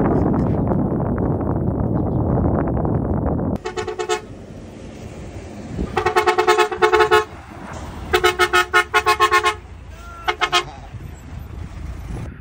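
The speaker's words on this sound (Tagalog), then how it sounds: "Bumubusina pa oh." A car horn honks in bursts, first one long blast and then a run of short toots, all close and loud. Before it comes a windy rumble of the motor.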